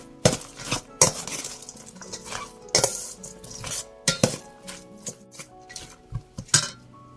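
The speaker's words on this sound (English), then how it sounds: "We can mix this together with the pounded ingredient." Vegetable fritter batter being mixed in a bowl with pounded ingredients: repeated clinks and scrapes of a spoon against the bowl in an uneven rhythm, close and fairly loud, with no talking.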